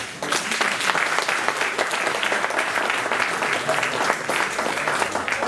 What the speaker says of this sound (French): je vais vous demander de vous applaudir pour cette raison.